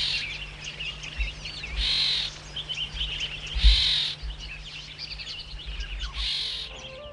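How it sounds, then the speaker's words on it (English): Many wild bird species call and sing together in the diverse vegetation of Nech Sar National Park, Ethiopia. A few louder caws and sharp notes rise over a dense, continuous chorus of chirps, with a low hum beneath. "The astonishing song of different bird species from this diverse vegetation has magical power"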